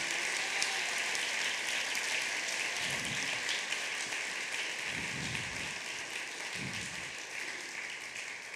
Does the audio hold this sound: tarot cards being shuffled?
no